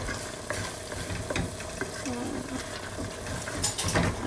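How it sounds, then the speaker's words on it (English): Spoon stirring spinach stew with fish and chicken bouillon in a pot, a soft scraping and sloshing texture with faint low sizzling, steady and close, no talking. "And then I'm gonna stir it."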